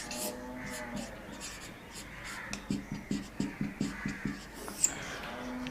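Marker or chalk writing on a board during an organic chemistry lecture, a series of short rhythmic strokes and taps in the middle of the clip against a quiet room, with a faint voice in the background.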